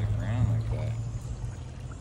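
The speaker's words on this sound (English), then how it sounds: "it's just bubbling." Water from a large spring bubbles up out of the ground with a steady churning, gurgling wash along a hiking trail, heard close by while a person talks over it.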